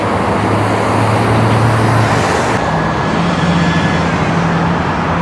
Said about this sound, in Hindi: और ये सफाई करने वालों की गाड़ी है जी, ये फुटपाथ वगैरह साफ़ करते हैं।